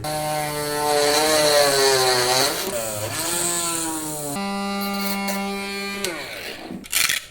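A rotary tool whining as it hollows out the inside of a Beyblade Burst launcher part, a loud sustained high-pitched drill tone that rises and dips under load, then stops with a few short clicks at the end.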